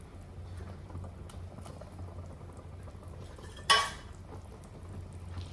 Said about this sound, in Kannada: ಇವಾಗ ನೋಡಿ, ನಮ್ಮದು ಪಾಯ ಸೂಪ್ ರೆಡಿ ಆಗಿದೆ. ಎಷ್ಟೊಳ್ಳೆ ಕುದಿ ಬರ್ತಾ ಇದೆ ಅಲ್ಲ.